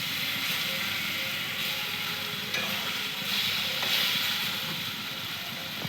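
Flat beans frying in a pan for a mustard fish curry, giving a steady, even sizzle with occasional stirring scrapes, close and moderately loud, with no talking.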